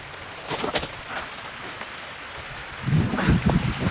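Light rain falls around the rocky Awala Hela falls at Bibila Gala, a soft patter with a few nearby knocks. A low, distant rumble of thunder swells in the last second or so.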